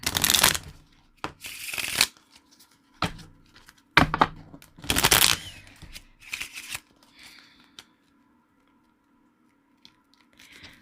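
Tarot cards are shuffled in several quick riffling bursts separated by pauses and light handling taps, close and fairly loud, with no speech.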